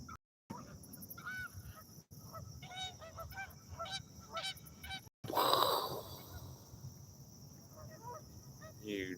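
Geese honking while coming in to land on a lake: repeated nasal honks from several birds at moderate distance, with a brief louder splash or rush midway, outdoors amid insect chirping.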